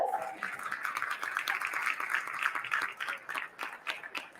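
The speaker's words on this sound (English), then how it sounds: "Let's give her another round of applause." An audience at Councilwoman Nantasha Williams's inauguration ceremony gives a round of applause, dense, fairly close clapping that ebbs and swells for a few seconds.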